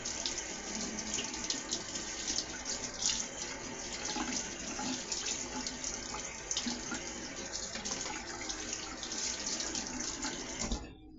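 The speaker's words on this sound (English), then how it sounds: "I gotta wash off the handle" Running tap water, steady and close, splashing continuously into a sink as a handle is washed off, with small clinks and rattles in the stream.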